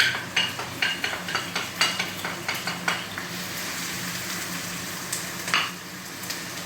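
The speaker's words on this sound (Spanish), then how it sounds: "se pone la cebollita a sofreír" Onion sautéing in oil in a pan for Sevillian-style meatballs, a steady close sizzle broken by a quick run of rhythmic scraping and tapping strokes from stirring, with no talking.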